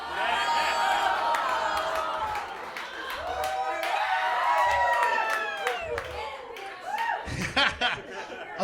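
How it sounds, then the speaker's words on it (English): A comedy club audience at a stand-up show laughs and chuckles, then breaks into scattered clapping and applause. Voices rise and fall throughout. "A cum joke just got an applause break."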